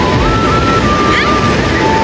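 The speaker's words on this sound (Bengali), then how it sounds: "ও ঢেউটা যা পড়ছে না ভাই" Ocean surf at Puri beach roars in a loud, continuous wash of crashing waves, with heavy wind buffeting the microphone and a faint tonal whine running through.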